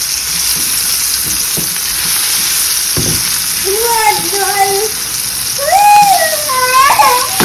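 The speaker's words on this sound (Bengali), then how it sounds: "জাস্ট লো হিটে হালকা হালকা করে আমরা এ করছি খুব ডিপ ফ্রাই না শ্যালো ফ্রাই করছি" Fish shallow frying in oil in a pan over low heat gives off a steady sizzle throughout, while a child's high, gliding vocal sounds rise over it in the second half.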